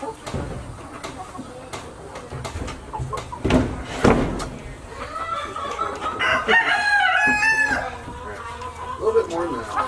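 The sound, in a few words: chicken in nest box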